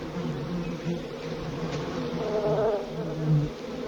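A dense, droning buzz of many bees swarming close by in a TV drama scene, rising and falling steadily without pause.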